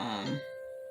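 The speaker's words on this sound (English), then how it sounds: "doorbell on my phone telling me somebody's at my doorbell." A phone doorbell app gives a short notification chime, a bright ringing tone that decays over under a second and sounds alongside a speaking voice.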